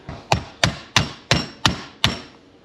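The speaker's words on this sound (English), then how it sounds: "let me get a hammer and tap" Six sharp hammer taps, evenly spaced and loud, knocking at a Jeep Grand Cherokee WJ airbag clock spring, each strike ringing briefly before fading.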